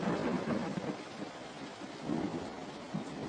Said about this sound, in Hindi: आसमान से हफ्तों तक लगातार बरसता है पानी।